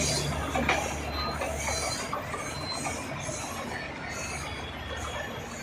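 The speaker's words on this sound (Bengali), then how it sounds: "এই যে ট্রেন চলে যাচ্ছে" A train rolling past in Sylhet, a continuous broad rumble with faint wheel squeal, loudest at the start and easing slightly as it continues.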